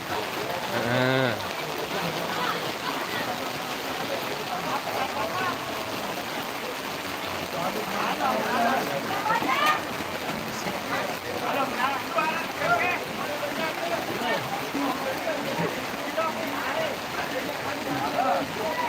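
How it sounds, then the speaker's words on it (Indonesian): Steady rain hisses throughout, with voices talking faintly underneath. "Dan akhirnya hujan"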